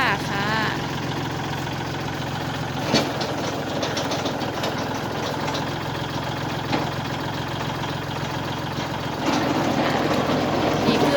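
A used tractor's engine idles steadily nearby, a continuous knocking diesel-like rumble with vibration throughout, while someone talks over it.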